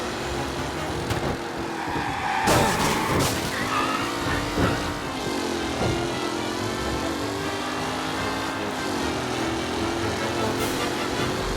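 Race cars roar past in a race in the game Mafia Definitive Edition, a dense, continuous engine drone with rising and falling revs and a brief clatter early on, loud and close throughout.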